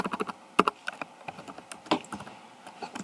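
Quick, uneven clicks of keys being typed on a computer keyboard, close and fairly quiet, with a few louder taps.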